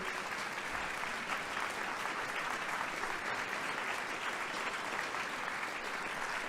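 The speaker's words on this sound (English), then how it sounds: "Give it up for Raquel, please." A church audience at a Chocolate Sunday service gives sustained, dense applause for a speaker who shared her family story, a loud, even wash of many hands clapping throughout.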